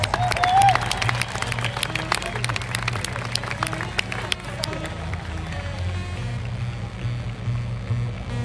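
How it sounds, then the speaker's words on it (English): A rodeo crowd at the Canterbury rodeo in New Zealand claps and cheers after a bronc ride, dense outdoor applause that slowly thins out, with an announcer's voice over it. "Give him a round of applause."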